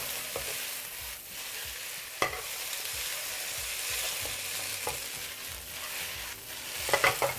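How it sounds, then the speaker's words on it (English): Rice noodles with bean sprouts and thinly sliced red onion stir-frying for Cantonese beef chow fun, a continuous sizzle with repeated scraping stirs and a couple of sharp clanks, no voices. "We'll fry them together until the onions and the bean sprouts are soft."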